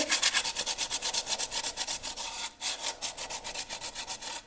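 Rhythmic hand sanding of epoxy resin edges, about two dozen quick back-and-forth rasping strokes at a steady pace, close and clear, briefly pausing midway.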